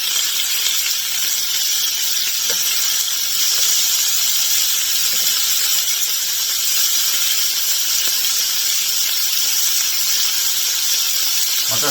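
A birria burger sears in a hot pan, giving a loud, steady hiss and sizzle that runs unbroken throughout with only faint pops beneath it.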